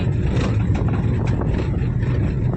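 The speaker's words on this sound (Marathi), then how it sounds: "ट्रॅफिक पण भरपूर राहते" Continuous low road rumble of passing traffic, heavy vehicles droning nearby with a steady, dense roar and no voices.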